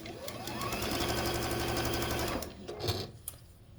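Sewing machine stitching quilt block pieces together, a close, steady mechanical whir for a couple of seconds followed by short clicks and handling noises as it stops.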